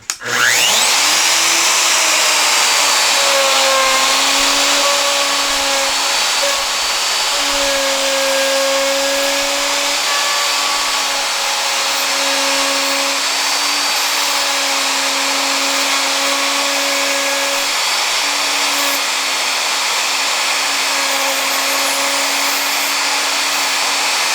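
A handheld router with a guide bushing cuts an inlay recess in wood at a 1/4 inch depth, giving a loud, steady high-pitched whine with a constant motor hum that holds for the whole stretch, alone without talk.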